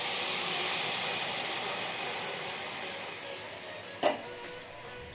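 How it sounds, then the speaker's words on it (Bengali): Hot water is poured into a pan of fried potatoes for a Bengali jute leaf prawn curry, setting off a loud hissing burst of steam that fades steadily, with a couple of small clinks near the end. "দিয়ে দিচ্ছি গরম জল।"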